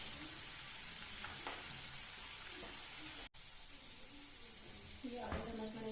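Ground spices sizzle and fry steadily in a pan: cumin, turmeric, chili and sabzi masala. The sizzle is faint and continuous, broken by a few stirring scrapes and a brief clatter near the end.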